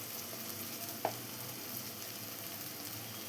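Prawn curry masala with Kashmiri chili powder fries in a pan, giving a soft steady sizzle while being stirred, with one brief scrape of the spoon.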